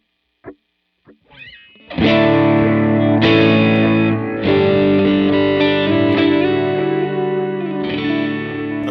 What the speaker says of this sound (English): I have an Adriatic delay set at dotted eighth note.